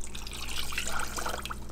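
One and a third cups of water pour steadily into a bowl for a mock apple pie made with Ritz crackers. A continuous close splashing trickle runs throughout, with no talk.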